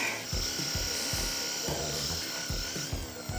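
A Philips PPM7501 handheld massage gun runs close up with a steady high-pitched motor whine and rapid percussive thumping that shifts as it is pressed against the body.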